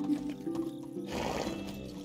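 A horse whinnies in the medieval life-sim game Medieval Dynasty, a drawn-out neigh rising to a louder, fuller call midway and holding strong with no talk over it.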